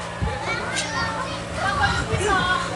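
A group of children shouts and plays nearby during a religious storytelling session for kids, their overlapping voices and calls running continuously throughout.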